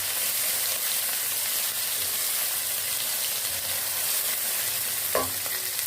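Onion with a spoonful of crushed garlic and ginger frying in a pan for chicken keema with ridge gourd, giving a steady, dense sizzle throughout, with one brief stirring clatter near the end.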